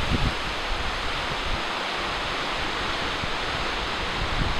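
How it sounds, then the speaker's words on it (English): Steady, broad rushing wind roars continuously through pine and maple trees, loud and constant with no voices. "The wind whipping through the pines and the maples."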